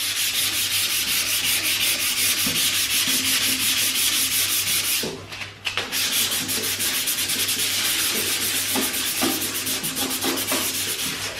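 Hand sanding fake rust paint effect on metal with 320 grit sandpaper, a steady close scratchy rasping in fast back-and-forth strokes, briefly pausing midway before resuming.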